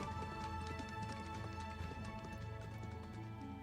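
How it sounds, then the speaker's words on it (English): Horse-drawn carriages clip-clop along a path as steady hoof beats under tonal music that plays throughout, at a moderate level. "The royal kingdom's horse-drawn carriages are seen on the path nearby."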